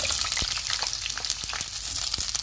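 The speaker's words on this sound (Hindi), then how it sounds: "और इन्हें 2 मिनट तक फ्राई करेंगे" Capsicum and green chillies fry in hot oil, giving a constant bright sizzle broken by a few soft thuds of stirring.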